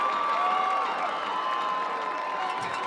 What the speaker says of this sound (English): Now the band's getting a round of applause from the students across the way.